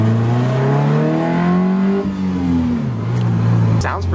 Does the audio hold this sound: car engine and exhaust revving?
yes